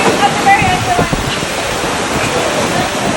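Heavy rain pours down in a steady, loud broadband wash outside a restaurant in Dubrovnik, continuous throughout, with people's voices faintly heard under the downpour.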